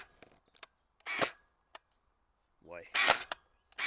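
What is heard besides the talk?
X-Shot Hyper Gel Trace Fire gel blaster firing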